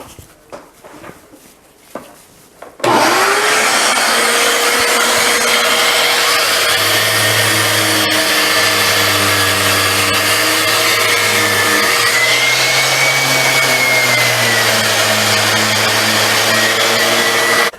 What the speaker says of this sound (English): Now I'm going to sand them off a little bit.